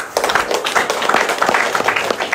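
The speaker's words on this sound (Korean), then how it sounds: "박수 한번 주시죠" An audience at a lecture gathering bursts into applause, a dense patter of hand claps starting abruptly and continuing steadily, fairly close and without talk.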